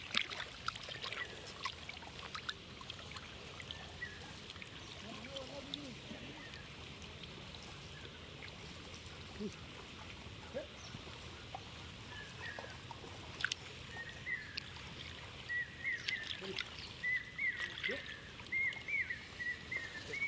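Helonde tubers are washed by hand in water on a traditional Konkan farm, with faint sloshing and trickling splashes at intervals against quiet outdoor background and occasional birdsong.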